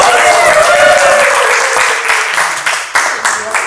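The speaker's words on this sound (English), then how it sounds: "A round of applause." Wedding guests break into a round of applause, a dense wash of clapping that fades toward the end into a few scattered claps while voices talk over it.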